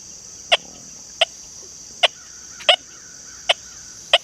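A Deus 2 metal detector running the V2.00 Sens FT program at a 40 max frequency band sounds off over a coin lying above part of a horseshoe: six short, sharp tonal chirps spaced about a second apart over a steady high whine.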